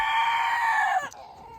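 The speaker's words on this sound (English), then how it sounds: "That's a black copper rooster." A black copper rooster crows loudly and close by in one long, strained call that breaks off into a short cluck, heard alone in a homestead farmyard.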